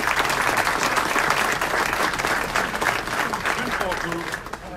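Applause at a city council meeting for the United Chinese Americans, a crowd clapping steadily at close range and tapering off toward the end, with a voice briefly audible beneath it.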